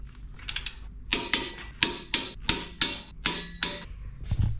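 A torque wrench tightening suspension bolts to 125 foot-pounds during a rear diff install on a 2024 79 Series LandCruiser, about ten sharp metallic ratcheting clicks in a fairly even rhythm, close and loud.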